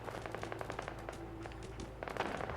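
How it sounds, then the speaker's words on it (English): Gunfire in Fallout 4: rapid bursts of sharp shots crackle at moderate distance in quick irregular volleys, faint and dense across the whole moment. "And we can already hear gunfire."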